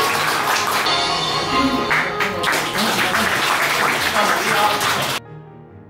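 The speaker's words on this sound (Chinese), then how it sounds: "让我们用热烈的掌声欢迎他们上台" A company hall audience applauds as employees are welcomed on stage, dense sustained clapping filling the room for about five seconds before it abruptly cuts off.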